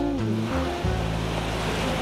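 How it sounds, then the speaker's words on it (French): Ocean waves wash onto a beach in Hérault, a continuous hiss of surf with a low tonal hum in the first second, steady and moderately close. "J'entendais les bruits des vagues"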